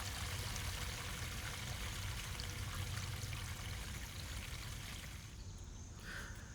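Water gushes steadily as an RV black water tank is flushed and drained, a loud continuous rushing pour that thins and tapers toward the end.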